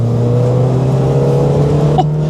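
Peugeot 205 Rallye, a small 1980s hatchback of about 75 horsepower, accelerating with a loud steady engine drone close by, pitch rising slightly as it revs.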